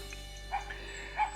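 Dogs bark a couple of times in the distance, faint yips over a steady background hum.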